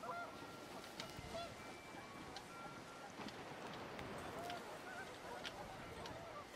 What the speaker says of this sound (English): Wind picked up, and panicked geese appeared and quickly went.